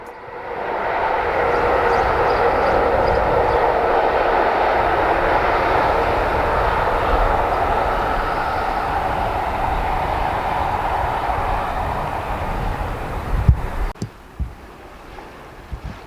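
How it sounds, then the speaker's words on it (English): The Blue Pullman special heading for Penzance rolls past in a loud, sustained roar of engine and wheels that stays heavy for most of its length, then drops away abruptly near the end. "A second special comprising the Blue Pullman heads for Penzance with a train from Shrewsbury."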